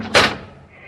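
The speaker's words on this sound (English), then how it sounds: "Shut the door." A door slams shut in an old-time radio crime drama, one sharp close thud followed by a brief fading rattle.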